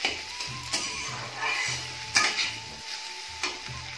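Ingredients for red chowmein stir-fry in a pan, with close spatula scrapes and knocks in an uneven rhythm over a moderate sizzle.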